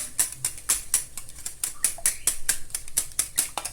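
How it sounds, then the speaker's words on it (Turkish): A whisk beats eggs in a bowl with quick, regular clicking strokes, about three or four a second, sharp and close, each tap ringing briefly against the bowl with little else around. "O arada biz yumurtamızı şöyle güzelce çırpalım."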